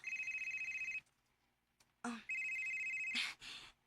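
A telephone bell rings in repeated electronic trills, loud and close, with two ringing bursts separated by a short pause and a brief clatter.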